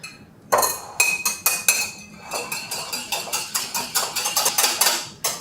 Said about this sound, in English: we are going to whisk everything together and go ahead and start with my eggs.